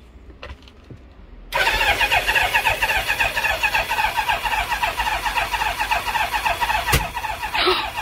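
A barn-find Kawasaki GPZ900R Ninja motorcycle, unstarted for 28 years, cranks and catches after a quiet moment, then settles into a loud, rough, pulsing idle nearby that runs steadily to the end.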